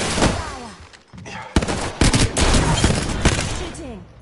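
Rapid gunfire bursts from a squad firefight in the Apex Legends battle royale game, loud and dense, with sharp shots clustering throughout and brief gaps between volleys.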